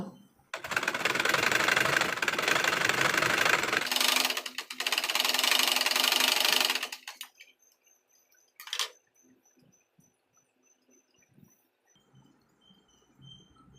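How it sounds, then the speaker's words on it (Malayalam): A sewing machine stitching a neck pattern, running in two steady rapid bursts of close mechanical whirring, followed by a brief short run and quiet handling noises. "നേരത്തെ ചെയ്ത പോലെ തന്നെ ഒരറ്റം മുതൽ മറ്റേ അറ്റം വരെ സ്റ്റിച്ച് ചെയ്ത് കൊടുക്കാം കേട്ടോ"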